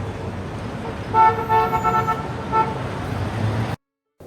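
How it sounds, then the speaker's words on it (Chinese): Layered traffic-jam sound effect on a road: a steady low rumble of idling vehicles with several car horn toots sounding through the middle, a few short honks overlapping, before cutting to silence. "这里我希望模拟出马路上堵车的声音"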